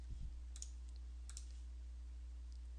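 Two quiet mouse clicks on a computer, one near the middle and another a moment later, with a faint third tick near the end, over a steady low hum.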